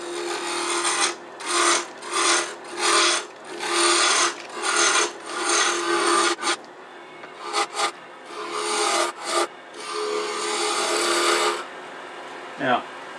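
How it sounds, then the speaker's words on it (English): A spindle roughing gouge cuts spinning wood on a lathe while turning a Nordic gonk ornament, making loud, rhythmic scraping and rasping bursts that pulse roughly once per second, with a short pause and a brief tonal squeak near the end. "I'm just going to go ahead and use spindle roughing gouge because it removes wood quickly"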